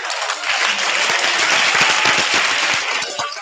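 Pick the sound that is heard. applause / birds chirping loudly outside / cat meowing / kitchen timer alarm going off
applause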